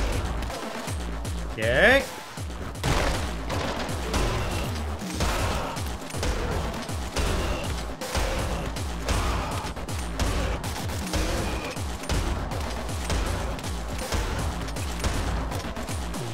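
Shotgun blasts and heavy weapon fire in the video game Anger Foot, a rapid stream of sharp bursts and crashes under game effects, with a voice speaking briefly over it.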